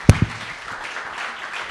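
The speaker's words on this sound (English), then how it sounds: "Go ahead and give a big hand for Bob Fisher for letting us do this here" Audience applause at a memorial evening celebrating Amy Bernard, opening with two sharp close claps, then a looser, thinner patter of clapping from the crowd continuing at moderate level.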